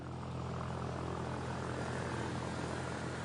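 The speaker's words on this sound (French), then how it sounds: "cet avion survole l'un des plus prestigieux territoires viticoles de la Gironde" Airplane flying over the Saint-Émilion vineyards near Bordeaux, a constant droning engine roar heard from on board, steady and unbroken with no voices.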